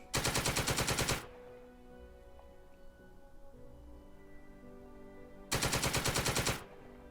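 Gunfire in a World War II war game, two long bursts of rapid automatic shots, loud and close, separated by several seconds of quiet humming background.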